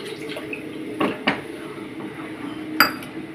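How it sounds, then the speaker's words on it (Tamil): Water goes into a pan of potato gravy for a kumbakonam kadappa side dish, with a soft pour and a few sharp metallic clinks of a utensil against the pan, close and unaccompanied by talk. "மறுபடியும் கொஞ்சம் ஜலம் விட்டுக்கிறோம்"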